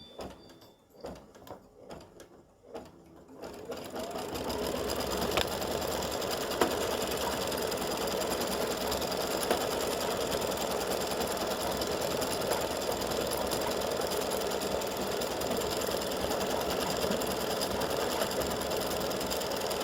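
A sewing machine starts up after some handling clicks and stitches continuously at a steady rapid rhythm, with a slightly irregular rattling from the bobbin.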